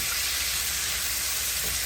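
Shrimp burger patties sizzle steadily in a hot pan as they are flipped, a close, continuous bright frying hiss with no break and no talk.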